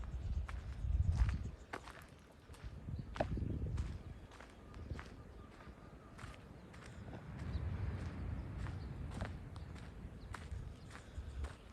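Horse hooves clip-clop along a road in Cabo Pulmo, a steady run of separate hoof strikes heard over a low rumbling background.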